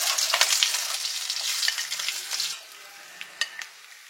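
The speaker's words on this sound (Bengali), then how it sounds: "ইলিশ মাছ ভাজা হচ্ছে, বোঝা যাচ্ছে গন্ধ আছে।" Hilsa fish sizzling loudly in hot oil, a dense steady crackle that eases after a couple of seconds into quieter frying with a few sharp clicks of stirring.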